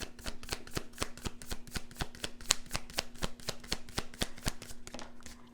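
Tarot cards shuffled by hand, a fast even run of crisp riffling slaps over a faint steady hum, close and alone.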